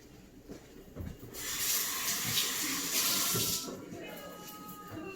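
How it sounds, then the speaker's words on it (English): Running water from a kitchen sink tap splashes steadily over hands being washed, starting abruptly after a moment of quiet, holding a broad hiss for about two seconds, then easing off. Close and moderately loud. "Let me wash my hands really quick."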